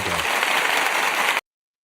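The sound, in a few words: applause sound effect sample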